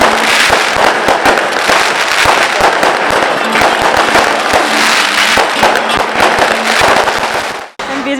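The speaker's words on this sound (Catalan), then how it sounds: "veure uns focs artificials en el seu honor" Dense fireworks crackle and burst continuously, loud and close, with rapid popping layered over a rumbling roar and faint voices underneath.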